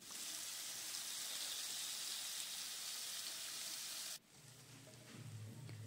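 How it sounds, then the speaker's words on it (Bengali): Paneer fries in white oil in a wok, giving a dense, even hiss up close for several seconds before it cuts off abruptly and leaves a faint low hum. "এবার পনিরগুলো ভেজে নেব।"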